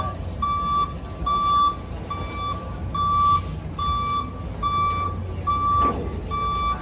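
A truck boarding a ship sounds its reversing alarm, a steady series of about eight loud, evenly spaced electronic beeps over a low engine rumble and deck noise.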